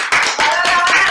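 Webinar participants clap their hands in a short burst, with a few close, distinct claps in quick succession.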